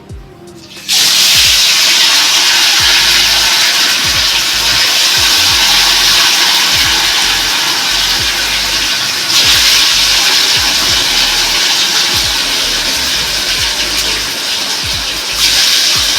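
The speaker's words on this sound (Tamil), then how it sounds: "இந்த எண்ணெய் காய்ஞ்சதும் நம்ம ஒரு மீனாக போட்டு பொறிச்சு எடுக்க போகிறோம்" Fish pieces dropped into hot oil set off an abrupt, loud, steady crackling sizzle that holds close and dense without letup, briefly swelling partway through.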